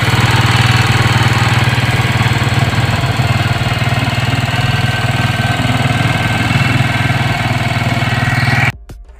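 A 125cc motorcycle engine idles loudly and roughly, left noisy after being revved hard, a rapid, rattling putter that holds steady until it cuts out abruptly at the end.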